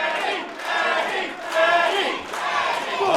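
A wrestling crowd at a live Phenomenal Elite Wrestling show chants in unison for Eddie Ryan, a dense, steady roar of many voices with rhythmic swells, filling the arena continuously with no clear talk over it.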